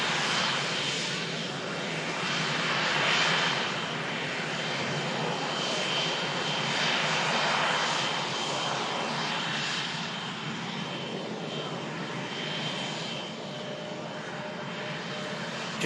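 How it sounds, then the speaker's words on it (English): A Turkish Airlines Airbus A321neo taxis out at an airport, its engines giving a steady, moderately distant whine and broad roar that holds evenly throughout with faint airfield background. "Just on the taxi out, you can see there is the Turkish A321 Neo we saw arriving earlier."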